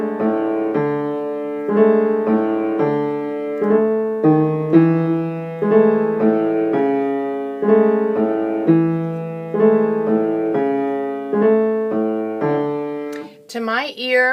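Piano chords played with heavy sustain pedal, so each new chord rings into the last and the harmonies blur together; a steady, repeating pattern of accented chords, close and alone, ending with a brief clatter.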